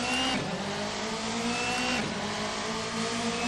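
Ford Fiesta racing in the Assetto Corsa video game on the Trento Bondone circuit, its engine droning steadily with rising revs and a tire squeal, close and continuous with no talk.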